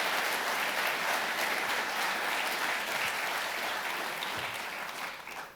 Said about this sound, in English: One last round of applause for all of our award winners.